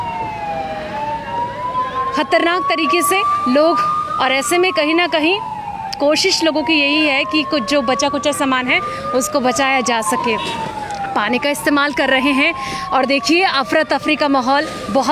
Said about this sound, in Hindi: अभी जो आप सायरन की आवाज़ भी सुन सकते हैं